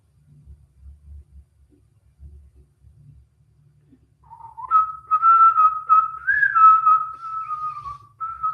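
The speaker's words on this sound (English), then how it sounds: "That tune that I keep whistling" A person whistles a tune, a clear sustained melody of several held notes entering midway after a quiet stretch of low faint rumble, loud and close.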